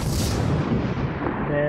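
A loud, booming weapon blast in Garry's Mod, a heavy low roar that fades out over under two seconds, with a voice faintly present.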